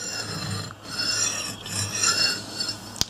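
A splitter machine blade is ground against a sharpening stone, giving close, rasping scrapes in repeated back-and-forth strokes with brief pauses, ending in a small sharp tap.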